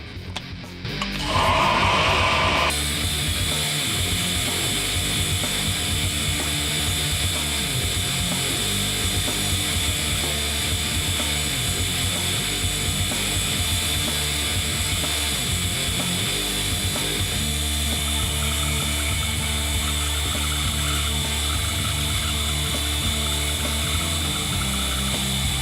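A belt grinder grinds compound bevels on a W2 or 1095 steel knife blade, a steady loud broadband whine that runs continuously after a brief start, with no talking over it.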